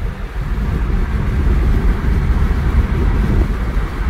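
Steady rushing wind roars over a low rumble on a smooth road at about 65 mph, dense and unbroken for several seconds, with no voices.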